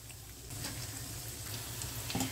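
Soya pakoda frying in oil over a medium-high flame makes a steady, even sizzle with a soft bubbling hiss, close by but fairly quiet, with no voices.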